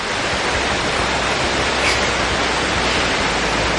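A waterfall in a flooded forest roars as a dense, steady rush of falling water, loud and close, filling the whole scene without a break.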